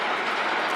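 Gatekeeper, a roller coaster at Cedar Point, gives off a broad continuous rushing rumble as its train runs along the track, fairly loud and steady throughout with no voices.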